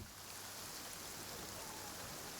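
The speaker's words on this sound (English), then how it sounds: "In the rain again." Steady rain falling in the Genshin Impact video game, a soft, even hiss of drops on surfaces with no talk, quiet and unbroken throughout.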